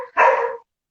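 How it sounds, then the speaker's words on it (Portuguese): Dogs give one loud, close bark-yelp lasting about half a second, then fall silent. "Eu estou aqui com meus cachorros, vocês estão ouvindo a barulhada"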